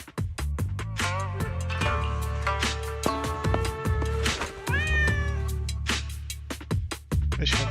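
Meowing of a cat in Zenless Zone Zero, set in a courtyard with mischievous orange cats, heard amid busy layered game music and effects that stay loud throughout.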